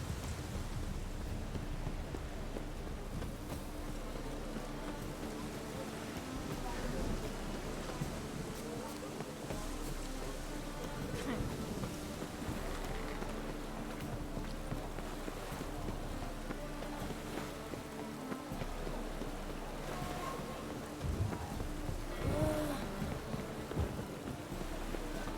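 Rain and wind in The Witcher 3 game world, a steady broadband wash of rainfall and gusting wind that runs loud and unbroken throughout, with faint game sounds beneath.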